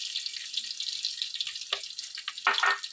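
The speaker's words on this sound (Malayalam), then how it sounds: "എണ്ണയിലൊന്ന് നന്നായിട്ടൊന്ന് കിടന്ന് ആ പച്ച മണമൊക്കെ ഒന്ന് മാറണം" Chili powder frying in hot oil for mango pickle, a steady high hiss of sizzling with a few brief louder bursts toward the end, close and fairly soft, with no talking.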